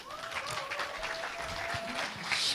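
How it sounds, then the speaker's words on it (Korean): Applause from party members at a South Korean party convention as a candidate for the supreme council takes the stage; clapping and crowd noise run steadily at moderate loudness, with a faint tone lingering underneath. "큰 박수로 맞아주십시오."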